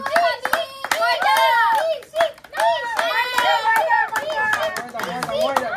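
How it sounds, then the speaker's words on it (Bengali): Hands clap sharply in quick bursts at a lucky-spin food challenge, the claps scattered beneath loud, continuous talking and sing-song voices close by. "জোরে হাততালি।"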